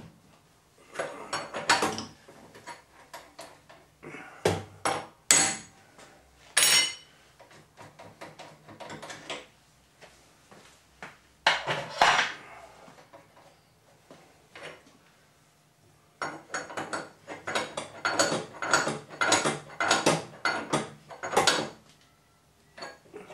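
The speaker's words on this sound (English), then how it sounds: "I've got a nice carbide end mill, I'll run it really fast and get a good finish on them" Milling machine running a carbide end mill at high speed, taking light finishing cuts across the flat tops of ribs on a banjo part held in a dividing head. Bursts of metallic cutting noise come in repeated passes, separated by short pauses.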